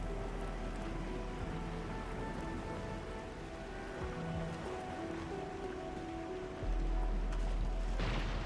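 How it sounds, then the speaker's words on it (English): Heavy rain pours steadily in the video game Arknights Endfield, a dense continuous patter with a low rumble swelling near the end, and no voices. "It's raining harder. I can't hear anything except for the rain."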